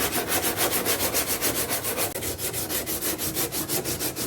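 Rough sanding of fiberglass filler on a Ford F-150 fender, a steady rhythmic back-and-forth scraping that repeats about four times a second, close and continuous with no talking.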